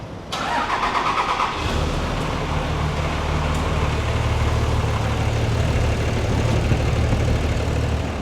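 A car engine cranks briefly and catches, then settles into a steady, loud, close idle with a low rumble that continues to the end.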